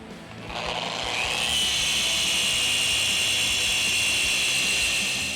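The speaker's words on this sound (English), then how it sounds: "after 2 passes with a 21 millimeter polisher on a cutting pad and some heavy cut" A 21 mm car paint polisher runs with a cutting pad and heavy-cut compound on automotive paint, giving a steady, loud, high-pitched whirring drone that ramps up in the first second and then holds at a constant speed.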